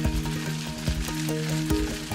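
Sliced onion and bacon sizzling in butter in a hot white Corningware pot, a steady close crackle with popping bursts and a faint held tone, no talk.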